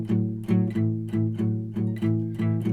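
Palm-muted guitar chugs through a 12-bar blues shuffle, steady lopsided rhythm of muted low chords with a dull percussive attack, close and alone.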